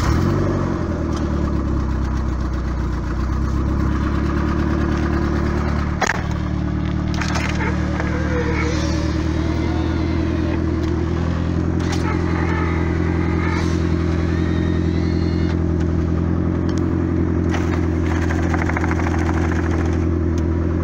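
A turbocharged Acura Integra running 13 psi of boost idles loudly and steadily up close, its engine note holding a low, even rumble with small fluctuations throughout and no voices.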